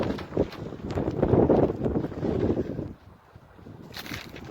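Strong wind gusts roar across an exposed snowy spot, broadband rushing that swells loud then eases and returns in buffets, with wind battering the microphone.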